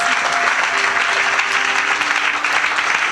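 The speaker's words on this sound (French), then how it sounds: "Applaudissez pour Jésus. Clap for yourself." A church congregation applauds in a dense, loud burst of clapping that fills the room without a break, with no one speaking over it.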